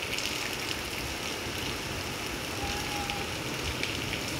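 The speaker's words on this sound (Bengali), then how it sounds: "সবাইকে দেখিয়ে দিলাম কত পরিমাণে বৃষ্টি পড়ছে" Heavy rain falls outdoors near a Durga temple, a broad steady wash of drops and running water, moderately loud and unbroken.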